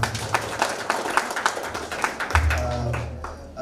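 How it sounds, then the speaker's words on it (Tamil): A small audience at a college boot camp claps in a loose, fairly sparse burst of distinct hand claps, with a low murmur of voices joining near the end. "உங்களுக்காக ஒரு பெரிய கைத்தட்டல் பண்ணலாமா?"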